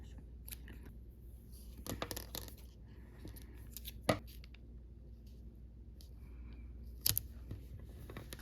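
Scissors snip friendship bracelet strings, followed by tape pulled and pressed down, in quiet, sparse clicks, snips and tearing sounds close by, with no talk.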